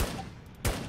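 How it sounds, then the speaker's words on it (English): Gunfire while shooting zombies in the game Infestation: The New Z, a loud close burst at the start and another sharp blast near the end over a dense, rumbling background. "I'll be here shooting these zombies"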